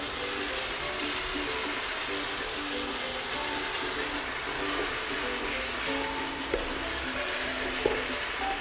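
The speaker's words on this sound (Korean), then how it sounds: "계속 센 불은 아니고 한 중간 불로 계속 익히고 있어요" Spicy stir-fried duck with sliced mushrooms cooks over medium heat in a pan after a splash of water, giving a steady, close sizzle and hiss that runs the whole time with a few faint utensil clicks.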